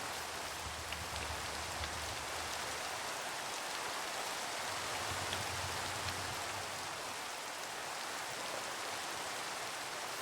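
Steady rain falls without a break, a dense, even hiss of drops that holds at the same level from start to finish, with faint low rumbling underneath and no voices.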